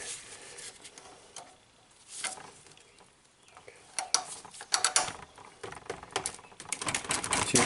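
Hose clamps being worked loose during a Nissan Rogue transmission swap, irregular metallic clicks, ratcheting and rattling taps close by, growing busier toward the end, with no talk.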